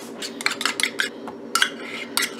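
Metal spoon clinking and tapping repeatedly against a bowl while mixing banana with sweetened condensed milk for strawberry banana sorbet, bright close clinks in quick irregular clusters.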